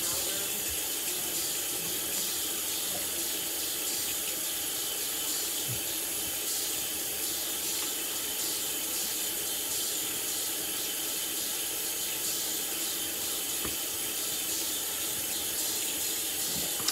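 A faucet runs steadily into a sink, soaking a towel for a hot-towel shave; the constant rushing water is fairly soft and continuous throughout, with no talking.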